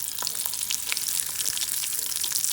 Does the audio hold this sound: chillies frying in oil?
yes